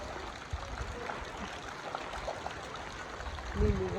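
Rainwater trickles and dribbles steadily at a farm during monsoon rain, a soft continuous wash with a slightly louder burst near the end.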